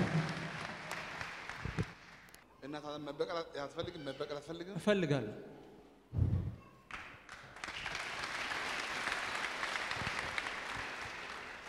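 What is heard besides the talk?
applause in church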